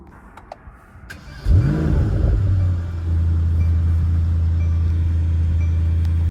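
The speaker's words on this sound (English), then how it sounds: "So here we are driving my 2018 Mercedes E63 AMG S" A 2018 Mercedes-AMG E63 S fires up with a loud, deep burst, then settles into a steady, heavy engine rumble heard close up as it gets underway.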